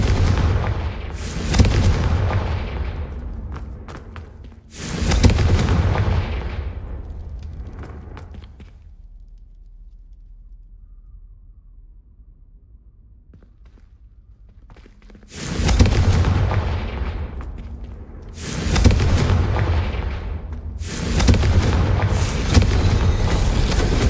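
Loud, close Confringo blasting spells from Hogwarts Legacy detonate in two clusters, several heavy booming bursts with rumbling tails, separated by a long quiet stretch of low ambient hum.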